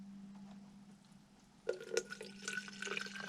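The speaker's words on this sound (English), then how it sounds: "I'm just gonna fill up to this mark distilled water." Distilled water pours into a bottle, beginning partway through with splashy bursts and then a steady, bubbling fill at close range over a low hum.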